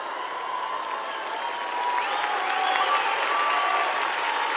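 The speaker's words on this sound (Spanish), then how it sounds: "No se sientan obligados a aplaudir rabiosamente en este trayecto, de verdad." Audience applause with light cheering at the Viña del Mar International Song Festival 2023, a steady wash of clapping from a large crowd that swells slightly partway through and carries on alone.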